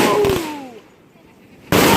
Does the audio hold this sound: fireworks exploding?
yes